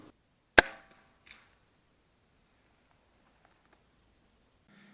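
A single sharp, loud hunting rifle shot taken at a whitetail deer on a Wisconsin hunt, decaying quickly into near silence with a faint rustle afterward.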